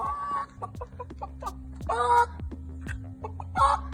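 A footballer imitates a hen's clucking in a string of short, choppy bursts, close up and fairly loud, with low background hum underneath.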